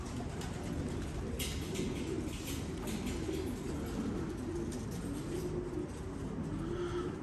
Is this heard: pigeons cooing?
yes